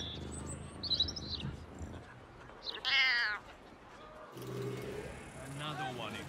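A cat meows in Baldur's Gate 3 with a few short, high mewing calls amid outdoor ambience, and a voice speaks in between.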